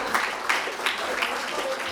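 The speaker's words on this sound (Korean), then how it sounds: "이쯤에서 박수 나와야 될 것 같습니다." An audience at a county youth policy event in Goesan briefly claps in a few evenly spaced bursts, a short rhythmic patter heard under ongoing talking.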